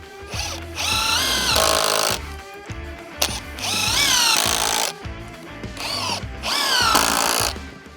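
A power drill drives bigger screws into wood while building an outdoor bench, with three long, loud, close whirring bursts rising in pitch as each screw seats, separated by brief pauses.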